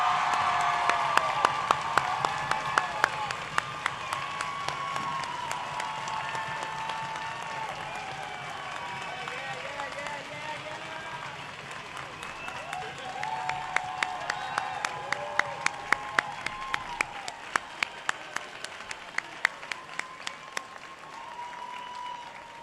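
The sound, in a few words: audience applause at graduation ceremony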